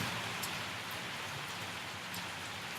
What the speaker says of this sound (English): I'm trying to figure out in what direction the rain is falling